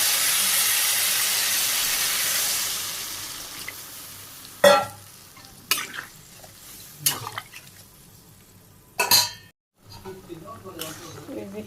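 Vegetables cooking in a pan in a Bangladeshi village kitchen. A strong hiss of steam fades away, followed by several separate clanks and scrapes of stirring with quiet gaps between them.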